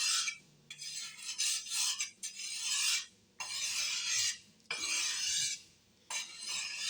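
A chef knife is pushed and pulled along a wet sharpening stone in repeated long gritty rasping strokes, about six in all with short pauses between, close and clear with no talk.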